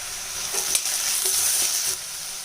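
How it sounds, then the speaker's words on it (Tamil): Green peas are tipped into a tomato masala frying in a pan and stirred, bringing a steady close sizzle broken by several scraping spoon strokes over a couple of seconds. "இப்போ நான் தண்ணியில் அலசி வச்சுருக்கேன் பச்சை பட்டாணி சேர்த்துறேங்க."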